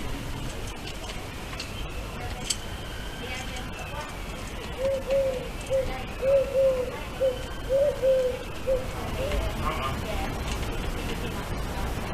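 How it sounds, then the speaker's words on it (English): Wood pigeons coo in a soft repeated run of low hooting phrases in the middle, set against constant outdoor background noise. "These wood pigeons are not battling for food."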